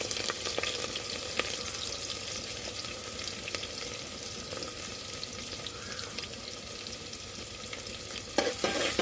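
Onion and green chilies sizzle while being stirred in hot oil with cumin, black pepper and star anise for spicy rice, a steady frying hiss with light scraping throughout and a sharper burst near the end.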